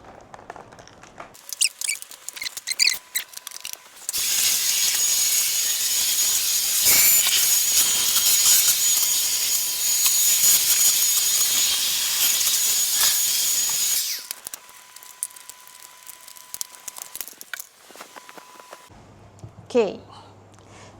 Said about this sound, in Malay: Me to vacuum my bilik.